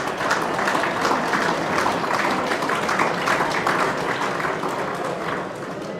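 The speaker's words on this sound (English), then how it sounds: "I think that deserves a round of applause." An audience at a local football league medal night gives a long, even round of clapping, a dense steady patter that fades slightly toward the end, with no voices over it.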